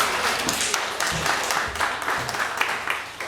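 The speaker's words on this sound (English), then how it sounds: "Give Jack a round of applause" An audience at Sovereign Hill gives a round of applause for Jack, a steady crowd of clapping hands that holds fairly loud and even for the whole stretch.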